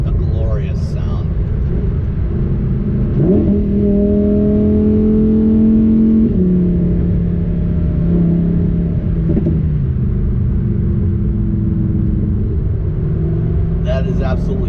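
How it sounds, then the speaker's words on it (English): Lamborghini Huracan Sterrato V10 engine running in sport mode on the road: a loud, close drone whose pitch climbs and shifts through gear changes, with brief voices at the start and end. "sport mode, that V10 gets quite a bit louder, and it is a glorious sound."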